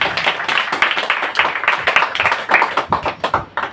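A congregation at a church service claps together in a brisk, uneven burst of hand claps, loud and close, lasting a few seconds.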